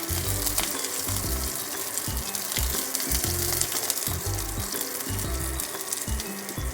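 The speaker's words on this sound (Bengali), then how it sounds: "সর্ষেগুলো দেখতেই পাচ্ছেন কীরকম একটু ফুটছে" Mustard seeds and curry leaves sizzle and spit steadily in hot oil, a dense close crackle running throughout with small popping bursts and no talk.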